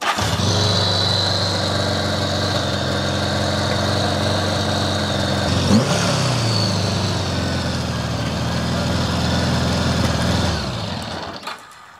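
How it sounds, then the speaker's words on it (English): A 1975 Honda GL1000 motorcycle engine runs at an abnormally high, steady idle, loud and close, with a brief revving blip midway before it cuts off near the end. "So, as you heard there, the bike is idling incredibly high."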